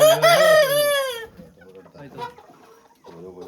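A rooster's loud, harmonic call rings out at the start, followed by quieter clucks and rustling farmyard sounds.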